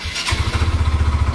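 A Yamaha Mio 125 scooter that won't start cranks over with the starter, a loud, steady low chugging pulse repeating rapidly and evenly, close up, with no voices.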